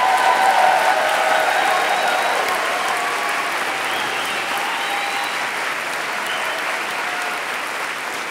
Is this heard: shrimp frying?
no